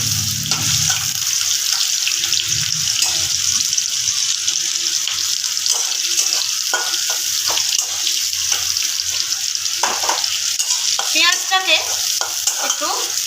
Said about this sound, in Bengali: লাল করে ভেজে নেব পেঁয়াজটাকে